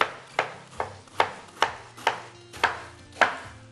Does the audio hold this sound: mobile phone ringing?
no